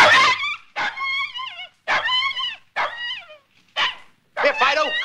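Dog barking and whimpering in a comedy short, a series of about six separate yelps and whiny barks with rising and falling pitch, close and fairly loud, each burst separated by short silences.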